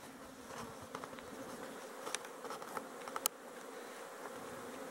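Honey bees hum faintly and steadily around snowy winter apiary hives in February, the soft buzz broken by a few small, sharp clicks.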